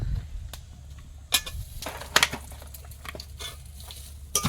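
Sun-dried lentil vadis (bori) frying in a pan of hot oil, giving a steady close sizzle broken by bursts of crackle and scraping stirs, alone with no talking.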